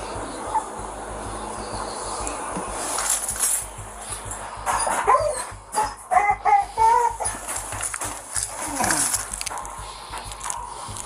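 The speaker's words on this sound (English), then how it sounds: "we got a bunch of little puppies in here." A litter of small puppies gives high whimpers and yips in a room, the cries rising in short bursts over steady background noise, with a few sharper barks near the middle.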